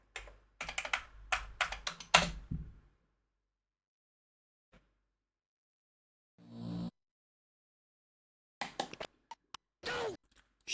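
Fast typing on a computer keyboard during keyboard control of the Amiga game Deuteros, bursts of rapid clicking separated by silent gaps, close and clear.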